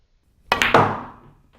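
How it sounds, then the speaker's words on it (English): On a pool table a heavily spun cue ball strikes the cushion and then the balls, giving two quick, close knocks with a short ring-out trailing away. No one talks. "I'm going to actually come off this cushion. Watch where the cue ball hits."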